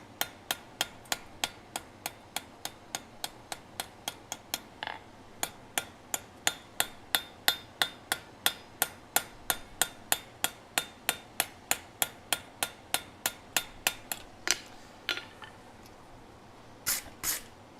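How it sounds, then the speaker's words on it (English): Light hammer taps on metal ring out in a fast, steady rhythm, dozens of crisp strikes close by, with a few brief pauses. "I'll lightly hammer on the surface, take out some more hammer marks"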